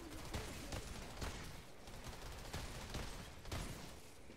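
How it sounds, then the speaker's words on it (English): A revolver-like pistol firing in the shooter game Outriders, with a series of sharp, evenly spaced shots roughly every half second over a dense, constant background of game noise. "Ooh, I like this pistol. Okay. It's like a revolver."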